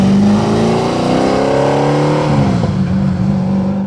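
In a Forza racing game, a Saleen S7 with a 7-liter naturally aspirated V8 revs loud and close, its engine note climbing through the gears with a shift partway, steady and powerful throughout.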